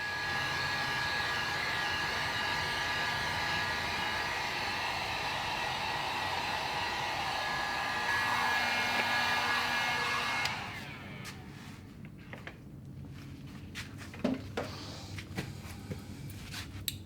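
A heat gun blows hot air onto a wheel of a 1970 Pontiac Grand Prix, a steady close whooshing roar that cuts off partway through, followed by quiet handling noises.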